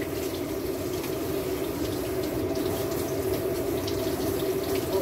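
Tap water running steadily into a sink while okra is rinsed, a continuous close splashing stream with no talking.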